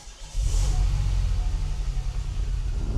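A 1982 DeLorean's engine catches after a brief crank and settles into a strong, steady rumbling idle close by, deep and continuous with slight revving pulses.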